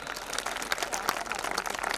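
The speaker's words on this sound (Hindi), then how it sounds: "जोरदार तालियां।" Audience at a school annual function at Stellar Global School in Sonipat, Haryana, breaking into dense, continuous applause, a fairly distant wash of many hands clapping without a break.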